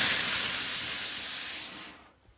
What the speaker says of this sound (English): Give it a quick steam press down.